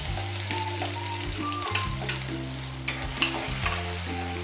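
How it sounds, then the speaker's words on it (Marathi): Mustard seeds, cumin, ginger and garlic frying in hot oil in a pan, a steady close sizzle with crackles and stirring scrapes, no voices. "त्यात मोहरी टाकून घेते, जिरे थोडेसे आणि आपली अद्रक लसूण."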